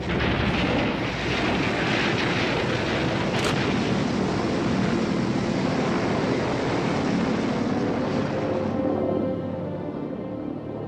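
A V-1 buzz bomb, the subsonic German cruise missile of 1944, roars loudly and steadily overhead as a dense, rough engine drone that fades slightly toward the end.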